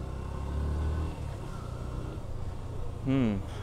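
A new Yamaha FZS V2 motorcycle hums along at a steady, moderate rumble during a ride, with a voice talking over the engine throughout.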